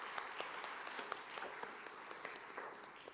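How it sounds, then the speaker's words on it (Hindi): An audience at a village awareness event for adolescent girls' safety and health claps in welcome, faint steady applause with distinct individual claps standing out. "तालियां बजा के स्वागत कीजिए।"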